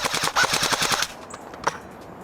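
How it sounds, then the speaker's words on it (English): An E&L Gen 2 AK74 airsoft rifle jams with its own magazine, firing a fast rattling burst of harsh clacks for about a second, then falling into faint clicks and one sharp knock. "Why is this rifle jamming and making these god-awful sounds with its own magazine"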